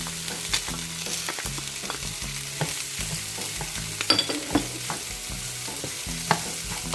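Onion frying in a pan for honey garlic ribs, a constant crackling sizzle with sharp utensil taps and scrapes scattered throughout, close and fairly loud, with no voices.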